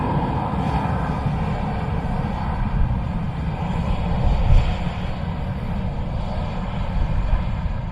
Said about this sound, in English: So we've a Dreamliner of Qatar coming in from Doha.